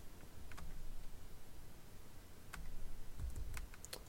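Computer keyboard typing while entering a rational inequality expression, with scattered key clicks in short bursts, fairly quiet and close, no voice over it.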